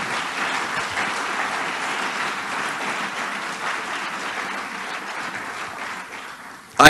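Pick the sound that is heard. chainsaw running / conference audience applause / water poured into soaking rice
conference audience applause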